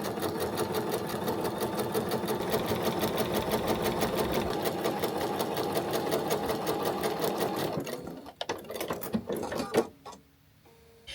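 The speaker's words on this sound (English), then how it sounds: "you're just going to sew down the line that you have drawn" Sewing machine stitching a quilt seam along a drawn line, a steady, rapid, close mechanical hum of needle strokes running for about eight seconds before slowing, stopping and giving way to a few small handling clicks.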